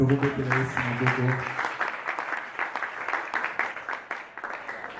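Church congregation at an evening preaching service clapping for Jesus, rhythmic hand claps and cheering following a speaking voice, steady and moderately close.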